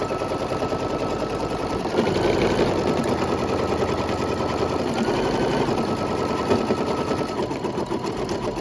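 An embroidery machine sews a satin stitch with a rapid, steady, rhythmic needle chatter that runs continuously and evenly at close range.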